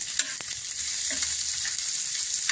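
Onion and curry leaves frying in hot oil for avarekalu masala paddu, a continuous bright sizzle with a few small stirring clicks, close and steady.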